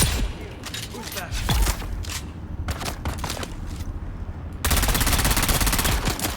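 Automatic gunfire in the Dune Awakening video game, played solo in slaver gear at a testing station, with dense rapid bursts running throughout and growing louder near the end, under a quiet voice.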